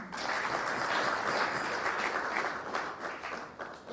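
A large audience applauds at the second Mwai Kibaki memorial event, a dense, steady wash of many hands clapping that stays loud and close throughout, with no speech over it.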